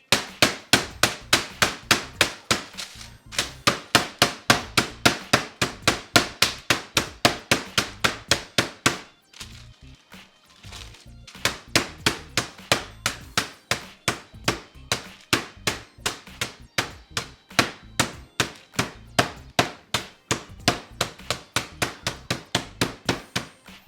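Steady, rhythmic pounding of a meat mallet on chicken, dozens of sharp close thwacks in quick succession with a brief pause midway.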